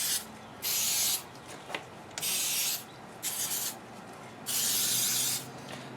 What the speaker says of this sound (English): So I'll spray this a little bit